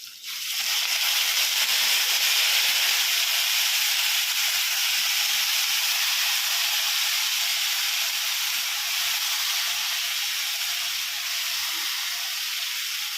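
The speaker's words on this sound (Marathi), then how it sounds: "त्यामध्ये आपण आता ही शेपूची भाजी कापून धुवून घेतलेली आहे ती टाकून घेणार आहोत यामध्ये" Chopped dill greens dropped into hot oil with lightly reddened onion, bursting into a loud, continuous steamy hiss that starts abruptly and holds steady, fading slightly toward the end, with no voices.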